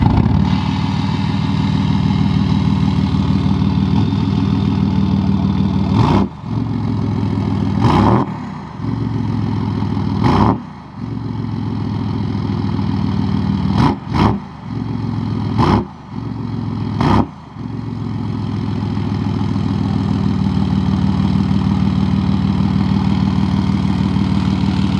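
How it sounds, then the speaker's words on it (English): A straight-piped 3.0 Powerstroke diesel in a Ford F-150 idles with a deep, loud rumble, then blips through a series of sharp revs, some in quick pairs, before settling back to idle. "let's get some nice little revs going or something"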